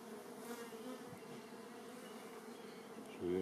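Honeybees hum from an opened hive colony during a queen check, a soft, continuous buzzing drone heard up close with no talking.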